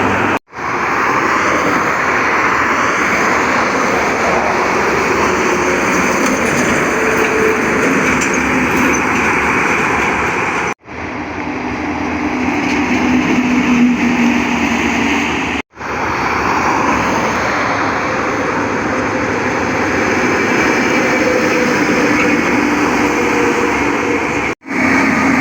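A Hino heavy truck roars past on a highway, a loud, sustained rush of engine and road noise with brief breaks between passes, no talking.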